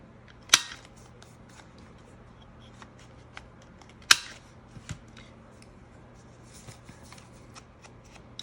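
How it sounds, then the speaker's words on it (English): Scissors snipping the corners off a handmade paper tag for a junk journal, two sharp crisp cuts a few seconds apart, each close and clear, with faint rustling and small clicks between them. "I want to cut the corners on this, the bottom."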